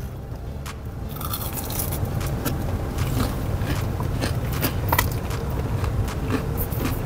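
Repeated crisp crunches of someone biting and chewing crunchy fried shrimp up close, sharp irregular bites over a low background rumble.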